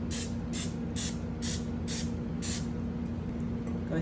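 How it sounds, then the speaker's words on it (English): Short, evenly spaced hisses of vegetable cooking spray coat the cups of a muffin tin, about six quick bursts in a row over a steady low hum, with no talking. "spray each one."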